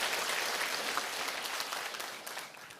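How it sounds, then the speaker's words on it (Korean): A room of company staff breaks into a round of applause for themselves, a dense, fairly loud clapping that holds steady and then begins to fade toward the end. "우리 자신들을 위해서 박수 한번 치도록 하겠습니다"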